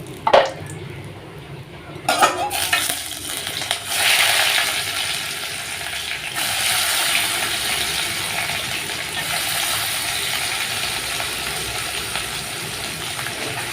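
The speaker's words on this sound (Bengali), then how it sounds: "এবার আমি এর মধ্যে পেঁয়াজ কুচি অ্যাড করে দেবো।" Chopped onion hits hot oil spiced with cardamom, cinnamon, cloves and bay leaf. Metal clatters at a pan come first, then a steady, close frying hiss settles in and holds.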